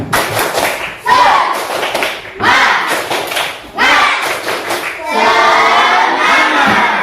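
A fifth-grade class claps out a rhythmic spirit clap, loud, close bursts of many hands striking together in repeated patterned phrases, with short gaps between rounds and a sustained stretch of clapping at the end.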